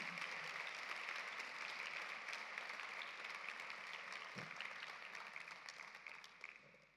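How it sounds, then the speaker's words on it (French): Audience at a hotel school graduation ceremony in Geneva applauding, a fairly faint but dense, steady patter of clapping that gradually thins and fades over seven seconds. "Vous pouvez l'applaudir."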